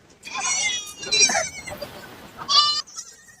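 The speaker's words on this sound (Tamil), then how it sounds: "இது ஜமுனா பாரியா ஆமாண்ணா இது ஒரு ஆட்டு குட்டி" Young Jamunapari goat kids bleat at a livestock market, several wavering high calls in bursts across the clip, fairly close, with faint voices in the background.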